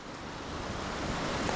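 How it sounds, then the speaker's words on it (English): The Hareshaw Linn waterfall gives a steady, broad roar with no breaks that grows slightly louder and nearer, and no voices are heard over it. "that's the cliff of the waterfall straight ahead now"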